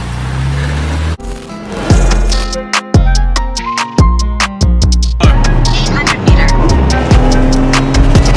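A BMW 1M drives past loudly and close, its engine revving and shifting through a series of sharp gear changes with brief drops between pulls.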